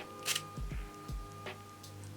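Two short hissing sprays from a face mist bottle giving a poor, weak mist, close by, separated by a pause, with faint clicks and a low background hum.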